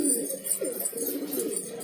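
Maniyal pigeons coo in a steady, low rolling murmur, several birds overlapping at close range with no pauses and no voices.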